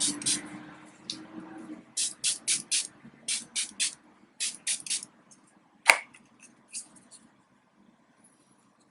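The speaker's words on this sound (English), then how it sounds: "I'm just going to spray my face" A rapid series of short, sharp bursts of Kat Von D matte setting spray onto a face, about a dozen close-up hisses in quick rhythmic clusters, then a single louder snap-like burst and quiet.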